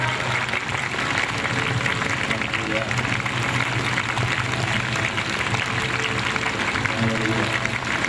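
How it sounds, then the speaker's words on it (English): Church congregation applauding Jesus in a sustained clap offering, dense and steady clapping from a large crowd that fills the room evenly from start to finish, with a low musical hum underneath. "Can you give Jesus a great big clap offering?"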